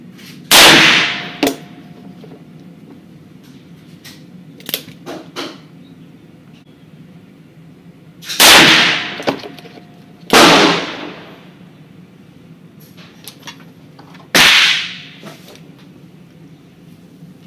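A .44 Magnum revolver fired four times outdoors, sharp loud cracks spaced several seconds apart with brief echoing tails, and faint clicks and handling sounds between shots.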